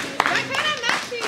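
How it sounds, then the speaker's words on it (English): A group of young people claps together at a matchmaking show in Houston, with sharp claps, excited shouting and chatter over the top. "Y'all go ahead and clap it up, man."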